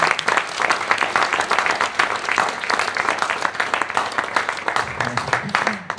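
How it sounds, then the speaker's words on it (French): A conference audience gathered in a barbershop venue breaks into lively applause, dense clapping sustained throughout with a few voices mixed in. "Je pense qu'on peut l'applaudir."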